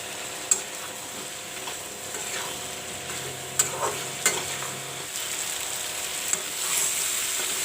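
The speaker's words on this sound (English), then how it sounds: "Friends, the red pumpkin and the masala is frying nicely." Red pumpkin and masala sizzle and fry in a pan, a steady crackling hiss broken by a few sharp clinks and scrapes of stirring.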